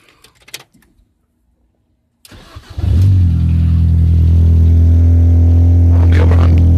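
A Mini's engine cranks after a few quiet clicks and catches, then settles into a loud, steady idle with a deep exhaust drone, close by.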